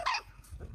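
A dog in a breeding kennel gives a single short, sharp bark, loud and close, followed by a faint low rustle.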